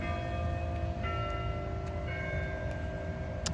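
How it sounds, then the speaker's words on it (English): A church bell tolls steadily in the background, its sustained ringing tones hanging over a low constant rumble, with no voices during the moment. "Excuse the bell."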